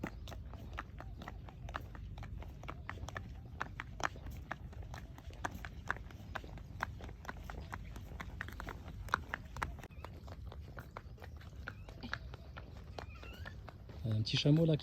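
A horse walks through the desert on a family ride, its hooves clip-clopping in a steady, fairly quiet rhythm that continues throughout, with a brief burst of noise near the end.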